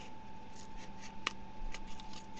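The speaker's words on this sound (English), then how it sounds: "I kind of just angle my scissors in, and this way I don't have to worry about the size of the cardboard." Scissors snipping through cardboard with a sharp crisp cut and a softer crunch, close and moderately loud over steady background hum.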